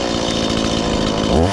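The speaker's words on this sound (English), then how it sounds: "Let's fire up the chainsaw and let's get to cutting some of this stuff." A chainsaw runs loud and steady close by while clearing brush on hunting land, its engine droning continuously and revving slightly at the end.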